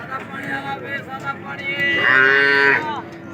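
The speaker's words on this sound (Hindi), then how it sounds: "और ये एक साहिवाल खड़ा हुआ है माशाल्लाह" A Sahiwal crossbreed standing at a cattle market gives a long, close, loud moo that swells toward its end, with faint background noise.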